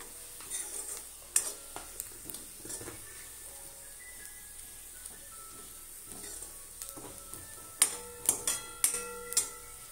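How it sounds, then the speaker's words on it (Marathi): A spoon stirs red chili powder into a mixture in a pan while cooking Satara-style mahadya, giving sporadic light scrapes and clinks against the metal over a faint, quiet background, with a brief cluster of sharper taps toward the end. "आता आपण याच्यामध्ये लाल तिखट मिक्स करून घेऊया।"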